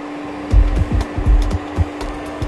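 A Windsor Clipper Duo carpet cleaner runs with a steady vacuum hum, broken by repeated low thumps and swishes as it sprays and is pushed across carpet.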